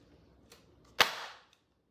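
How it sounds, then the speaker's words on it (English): A baking pan holding pumpkin roll batter is lifted and dropped once onto a counter to level it, giving a single loud, sharp bang with a brief ringing tail, preceded by faint handling noise. "you're going to pick up the pan, let it go and let it drop. So it'll be very loud."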